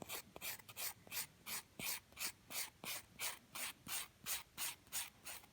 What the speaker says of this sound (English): And as I'm filing the top and edge of the nail, I try to make sure I don't take down the apex area.